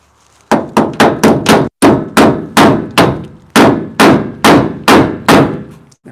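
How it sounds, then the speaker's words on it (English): A hammer pounds a pickup truck part straight, about fifteen sharp, loud metallic blows landing in quick bursts with brief pauses, close by and with no talking. "Hit it with a hammer."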